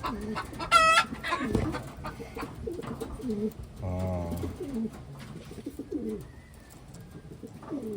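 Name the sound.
Taiwan pigeons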